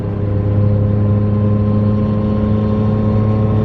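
A project car's engine drones steadily under very light throttle while climbing a hill in sixth gear, a loud, continuous low hum heard from inside the car, with no talking.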